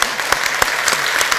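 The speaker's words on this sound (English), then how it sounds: "Can we give him an extra round of applause" Applause from the audience at the 7th World Summit on Ethics & Leadership in Sports, a short burst of loud, close clapping with a few sharp individual claps standing out.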